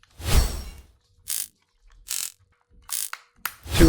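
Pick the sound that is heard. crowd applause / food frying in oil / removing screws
removing screws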